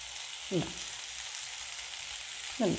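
Gooseberry pickle mixture sautés in a pan as turmeric powder goes in, giving a steady soft sizzle close by, with two brief stirring scrapes rising above it.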